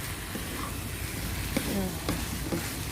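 Cucumber and egg stir-fried dry in a pan without added water, a continuous low sizzle with a few soft spatula scrapes and taps, close and moderately loud.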